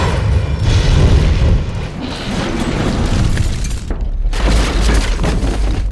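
A staged film explosion goes off on a Paris street as a loud, deep boom with crackling, shattering debris that rumbles on and then tails off.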